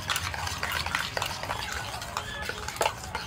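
Beaten rice with sour yogurt, salt and sugar is stirred vigorously: close, rapid scraping and clinking of a spoon against the container, steady and continuous over low kitchen noise, with no talk.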